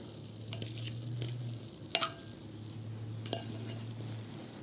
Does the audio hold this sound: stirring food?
yes